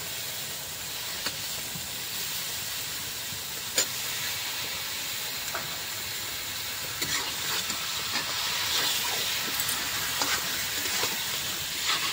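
Chicken is added to fried spices in a pot for chicken dum biryani, giving a continuous broad sizzling hiss with a few faint clinks, steady and close, with no talking.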